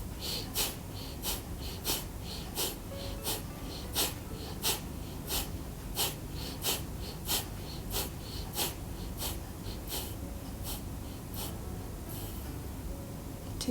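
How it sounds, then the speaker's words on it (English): Bhastrika pranayama breathing during a yoga session, with short, forceful nasal breaths repeated in a steady quick rhythm, close and alone over a low background hum. "first we'll do the Bhastrika, where you are taking very small breaths but strong ones"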